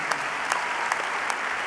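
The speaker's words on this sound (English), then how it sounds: "Can you join me in giving them a round of applause" Audience at a graduation ceremony applauding, a steady wash of clapping from a crowd with a few sharper, closer claps standing out.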